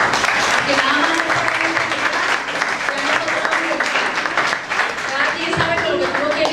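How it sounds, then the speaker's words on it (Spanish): A church congregation at a Spanish-language Sunday service bursts into loud, sustained applause, thick continuous clapping filling the room with some voices mixed underneath. "Vamos a empezar con un aplauso a nosotros mismos"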